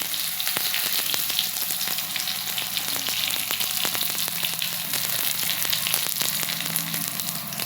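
Curry leaves hit hot oil with cumin and mustard seeds, giving a loud steady sizzle speckled with sharp popping crackles, close up and with no talk.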